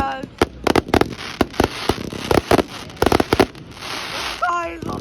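Bonfire Night fireworks burst in rapid succession, a loud barrage of sharp bangs and crackles with whistling rockets near the end.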